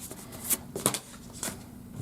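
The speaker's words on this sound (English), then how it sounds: "I keep shuffling and shuffling and asking for just one card" Tarot cards being shuffled by hand in a few brief, soft riffling bursts separated by quiet pauses, fairly close and faint, with no talking.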